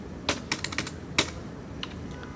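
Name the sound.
typing on a computer keyboard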